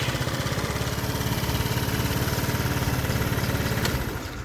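A Lance Cabo scooter engine running with a rapid, even putter and a buzzy mechanical drone, holding steady before dropping away abruptly at the end.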